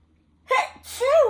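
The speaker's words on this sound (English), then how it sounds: "I feel like I'm gonna sneeze." A single close, loud sneeze: a sharp intake of breath, then a burst that trails off into a strained vocal tail.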